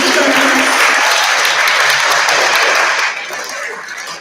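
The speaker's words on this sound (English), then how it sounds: "you can keep clapping" Many hands clap loudly and continuously at a seventh-grade middle school awards ceremony, the applause thinning slightly near the end while a voice talks faintly beneath it.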